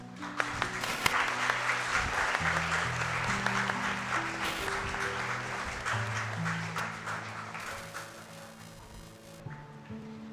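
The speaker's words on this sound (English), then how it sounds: "Please give her a round of applause." An audience claps steadily at a school investiture ceremony, a moderate, even patter of many hands over soft background music, tapering toward the end.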